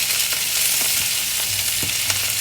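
Vegetables tossed into a breakfast skillet with sausage and potatoes, a loud, dense frying hiss that carries on without a break, with light stirring clinks and scrapes close by.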